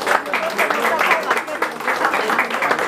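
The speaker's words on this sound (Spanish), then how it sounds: "démosle un aplauso bien fuerte, bien bonito" Audience applauds loudly and steadily at a birthday celebration with a youth mariachi band, claps dense and close for the full stretch with no one speaking.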